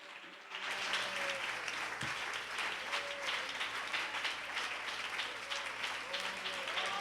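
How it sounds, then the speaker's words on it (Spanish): A church congregation applauds together in a dense, steady wash of clapping that lasts throughout. Faint voices sit underneath the applause. "¿Quiere darle un aplauso al Señor?"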